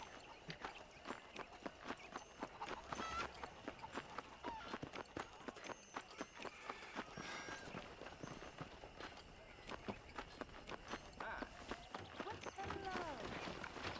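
Horse galloping in the Red Dead Redemption video game, with steady rapid hoof clip-clop running throughout over background game ambience, while someone talks intermittently.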